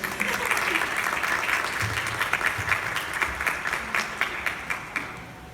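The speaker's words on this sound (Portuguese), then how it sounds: "Aplausos, por favor." A lecture audience applauds to welcome a guest storyteller onto the stage, a steady wash of clapping that thins toward the end into a few distinct, sharper claps.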